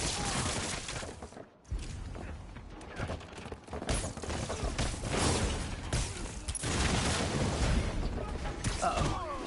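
Dense gunfire rattles almost continuously in the Spider-Man Noir video game, with crashes and mechanical clatter mixed in and brief voices in the background.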